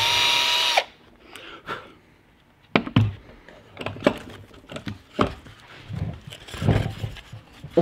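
A power drill bores through pre-made awl holes in a wooden box lid, a short high whirring burst at the start followed by scattered knocks and clatters of handling the workpiece, close up with no talking.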